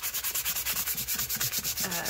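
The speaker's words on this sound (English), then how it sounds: "you're going to want to make sure that you sand it first." Light 60-grit sandpaper is worked quickly back and forth over chipboard, giving a close, rhythmic scratchy rasp of about eight strokes per second with no talking.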